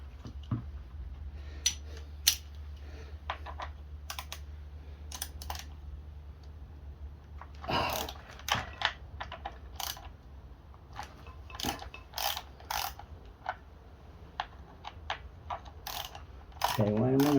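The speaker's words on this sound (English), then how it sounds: "Ratchet." A ratchet with a 1/2 inch socket clicks on a Poulan 38cc 16-inch chainsaw, giving short, sharp, close metallic ticks in scattered bursts, with faint handling noise and a little speech near the end.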